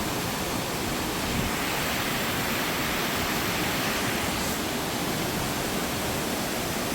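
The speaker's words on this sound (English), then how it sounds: "One more shot of the waterfalls." Waterfalls in Saarburg on an evening, a steady, dense roar of falling water filling the scene evenly from start to finish, close and continuous with no voices.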